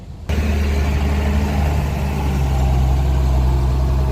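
An Isuzu Deca 360 truck engine idles close by, a steady low diesel rumble that kicks in abruptly after a brief quiet moment and holds an even drone throughout.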